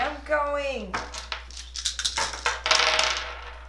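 Dice rattle and clatter across a table during a tabletop board game of Herbaceous Sprouts, a quick burst of hard knocking after a drawn-out spoken word, with players chattering over and around the rolls.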